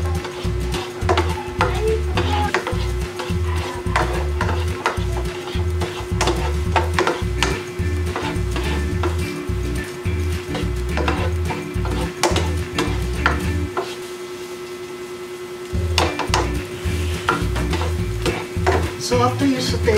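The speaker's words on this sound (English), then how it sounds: "So after you saute the garlic and onion until you find it's golden brown" Garlic and onion sautéing in a pan for chicken adobo, with a steady stirring scrape and clicks of a utensil against the pan. A soft sizzle runs underneath and drops out for a moment near the end.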